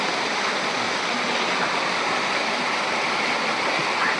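Sadasiva Kona waterfall in Andhra Pradesh, a steady, loud, broadband rush of falling water heard close by, unbroken throughout with no voices over it.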